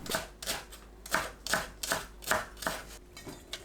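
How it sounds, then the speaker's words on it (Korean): Quick, steady knife chops of green onion against a cutting board, around a dozen crisp taps in an even rhythm, close and fairly quiet. "파를 작게 썰어줍니다."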